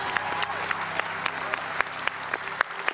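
Applause from a studio audience on an Indonesian talk show, heard as a steady patter of clapping with sharper individual claps scattered through, moderately loud and continuous for a few seconds.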